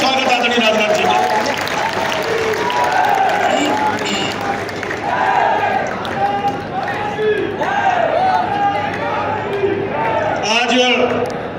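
Standing crowd at a Lok Sabha election rally in Fatehpur Sikri applauds loudly to welcome Rajnath Singh, a sustained dense roar of clapping and cheering with voices mixed in throughout.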